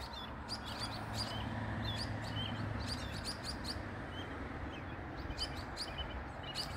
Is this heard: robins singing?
yes